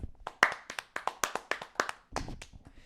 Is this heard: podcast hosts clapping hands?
yes